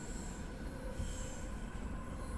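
Steady metallic squeal of commuter train wheels on a Tokyo Keihin Tohoku and Utsunomiya line route in Train Simulator, a continuous high whine over a low rumble of rolling stock, loud and unbroken with no talk.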